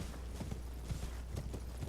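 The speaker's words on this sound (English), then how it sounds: "I'm going to continue running around with the horse." Horse hooves clip-clopping at a rapid gallop in Elden Ring, rhythmic repeated thuds over a low ambient hum, moderately loud and close with no talking.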